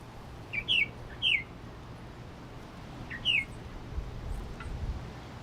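Birds on small Caribbean islets give a few sharp, high chirps, three distinct calls spaced over several seconds against a soft, constant outdoor hiss.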